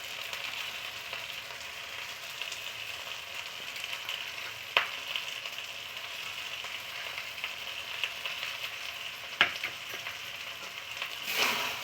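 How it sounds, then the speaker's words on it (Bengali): Thor muri ghonto with sugar sizzles and fries steadily in a pan, a continuous hiss broken by a few sharp scrapes of stirring, with no talking. "আবারও আমি নেড়ে নিচ্ছি।"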